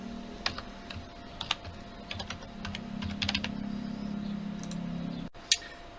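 Typing on a computer keyboard comes through as quick, irregular clicks in short bursts, close and fairly quiet over a faint steady hum, ending with a single sharper keystroke.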